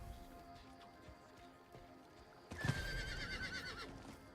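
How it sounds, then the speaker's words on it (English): A horse in the Diablo IV video game lets out a loud whinny midway through, followed by a quick run of hoofbeats, after a quieter stretch of faint in-game ambience. "Let's go, horsey."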